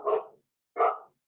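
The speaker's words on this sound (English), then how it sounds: "You can actually hear her barking at something." Two loud, close barks from a female Cane Corso, a landrace flock guardian breed, each about a third of a second, separated by a short silence.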